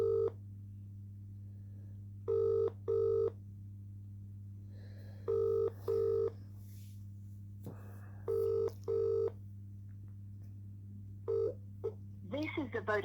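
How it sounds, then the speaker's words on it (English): Ringback tone while calling a mobile phone: repeated paired rings in regular bursts over a steady low line hum, with a short garbled bit of tone at the end. "Ringing up Christopher Browell"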